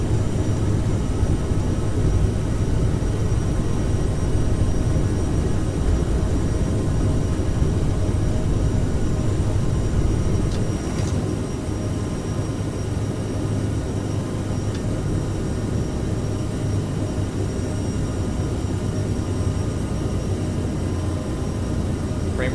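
An aircraft rolls along an airport runway in the video game Microsoft Flight Simulator 2020, producing a steady, loud engine roar and low rumble that holds without a break throughout.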